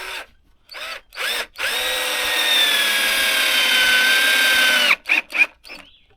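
Power drill driving a 2-inch Torx deck screw into raw cedar, with a few short trigger bursts followed by one long, loud, steady whirring drive of about three seconds and then quick final pulses.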